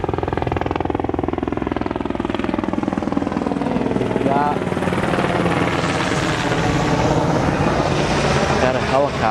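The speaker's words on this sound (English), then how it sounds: "Got a helicopter." A helicopter passes over a dragstrip on its way into St. Pete Clearwater Airport, its loud rotor thump and engine drone steady throughout, with voices talking over the noise.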